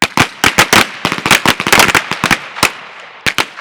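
Firearm shots during shooting training ring out as rapid, sharp, loud cracks, fired in quick bursts and strings with short pauses between, close by and with no talk over them.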